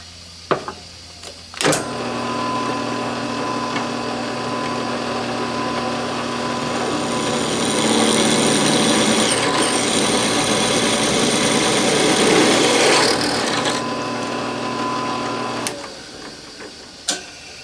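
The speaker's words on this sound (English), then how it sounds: "the first thing we need to do is drill these out over the drill press." A drill press whirs steadily at a constant pitch, drilling metal rail tie plates with a drop of oil, its cutting noise swelling in the middle, then winds down; a few sharp clicks before and after.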